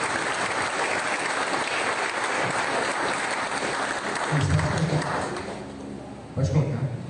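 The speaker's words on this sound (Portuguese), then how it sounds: "Aplauda mais uma vez o Senhor." A church congregation claps in a steady dense burst during worship, with a low voice and some background sound briefly showing toward the end.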